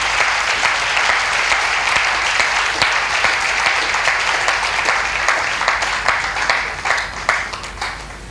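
A church congregation claps in dense, sustained applause, with a steady wash of many hands and scattered louder claps, filling the room without a break for the whole stretch.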